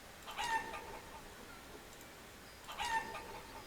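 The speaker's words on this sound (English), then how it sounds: "look at all the freaking chickens." Chickens cluck in the Forest Village video game, with two short bursts of clucking a couple of seconds apart over a low, steady game background.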